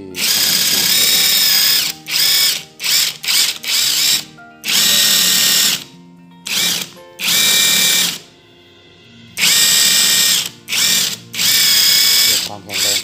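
A power drill repeatedly whines up and stops while drilling holes to mount curtain brackets. There are about a dozen loud, close bursts of varying length, separated by short pauses.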